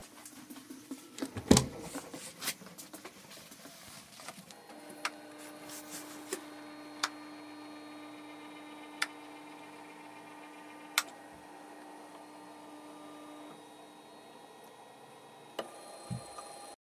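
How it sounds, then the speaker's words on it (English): A watch cleaning machine runs while servicing a 1962 Longines Flagship with caliber 341 movement, giving a steady low hum with a faint whirring tone and occasional sharp ticks or clicks spaced several seconds apart, with no talking. "let the cleaning machine pull its own weight"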